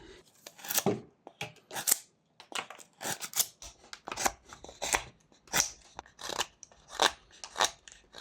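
A knife whittling a small wood penguin figure, roughing out its outline with repeated short cuts: crisp scraping, crunching strokes close by, coming in uneven bursts with brief pauses between.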